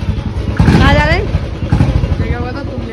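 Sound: motorcycle engine

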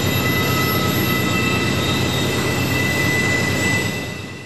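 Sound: NS 257 intermodal freight train on Horseshoe Curve

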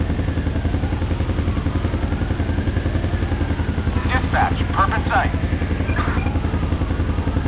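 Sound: police helicopter in video game GTA 5 LSPDFR

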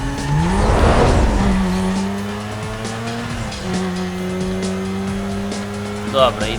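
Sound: car accelerating in Need for Speed Most Wanted video game

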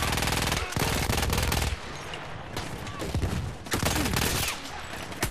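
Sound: gunfire from enemies shooting, from video game Battlefield 1

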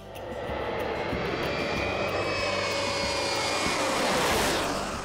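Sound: Shuttle Training Aircraft jet in flight, engine noise

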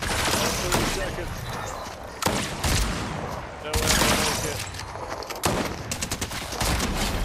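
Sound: submachine gun gunfire from a video game

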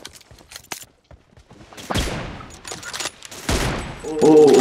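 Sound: gunfire in BGMI video game (M24 TDM)

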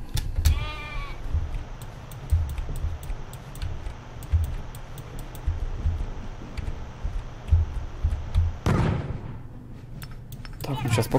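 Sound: sheep bleating in the video game Wormix

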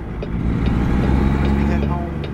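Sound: dump truck driving by

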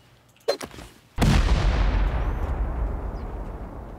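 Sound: C4 and rocket explosions raiding a bunker, video game

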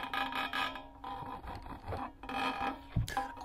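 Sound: rubbing a springy wound-up part for sound design

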